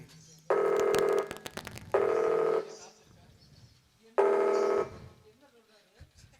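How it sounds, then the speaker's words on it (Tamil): Three separate bursts of a telephone dialing or ringing tone come from a phone during a call, each lasting about half a second, clear and fairly close against a quiet background with faint voices in between. "மாமாக்கே ஃபோன் பண்ணி கேட்டுருவோம்"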